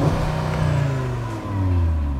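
Audi RS3 engine revving, a sustained close mechanical drone with the pitch sweeping up and easing back, heard inside or near the car without talking.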